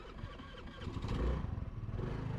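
A 2022 Honda Navi automatic motorcycle pulls away from a stop, its small engine rising briefly in a close, rough, pulsing burst.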